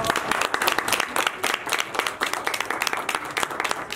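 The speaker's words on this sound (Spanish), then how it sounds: "Fuerte ese aplauso." A Spanish-speaking audience at a book recognition event in a senate setting applauds, with moderately quiet, lively clapping and distinct individual claps running throughout.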